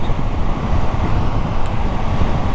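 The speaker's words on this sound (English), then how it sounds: "I have got a lot of wind beating around my chest" Wind buffets a motorcycle rider's chest as a loud, continuous low roar and rumble of rushing air filling the whole stretch with no letup.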